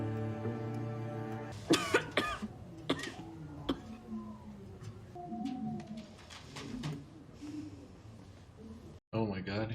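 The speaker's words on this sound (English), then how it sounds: "she's coughing up blood." A woman in a TV drama scene coughs up blood several times in harsh bursts, with a voice and background sounds between the coughs.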